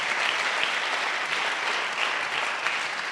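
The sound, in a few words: congregation applause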